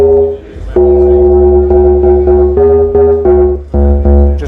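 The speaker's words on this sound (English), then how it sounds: "So when we have more oscillators going together, it just sounds lovely" A Minimoog synthesizer plays several oscillators stacked together in a loud, sustained, buzzy drone, with the held pitch stepping and re-attacking every few tenths of a second and no voices.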